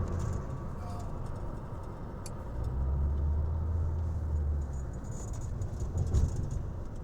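A car drives down a road, heard from inside as a continuous low engine and road rumble with a few light rattles, steady and close throughout.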